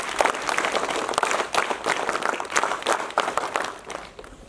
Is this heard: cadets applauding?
yes